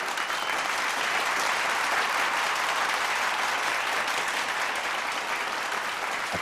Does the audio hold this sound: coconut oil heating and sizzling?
no